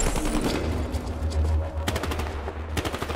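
Rapid bursts of automatic gunfire in Battlefield: Hardline crackle in short rattling volleys, separated by brief pauses with a low rumble underneath.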